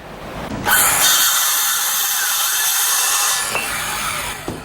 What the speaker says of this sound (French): Ensuite, je prendrai mes cales à poncer pour le façonner.